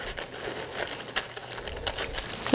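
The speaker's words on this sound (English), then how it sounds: "cut this front band off" Fabric being cut to remove a front band for a sewn long vest, a steady close crinkling and rustling texture of continuous cutting and handling throughout.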